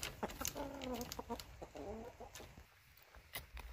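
Several hens clucking and murmuring softly in a coop at night as they settle on a pine-branch roosting perch, a run of close, low warbling calls followed by scattered scratches and a few sharper clucks.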